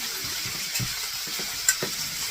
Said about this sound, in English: He's going to scramble these eggs.